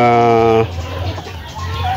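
A rooster crows on a poultry farm, one drawn-out call that cuts off early, followed by scattered clucking and farmyard noise under nearby voices.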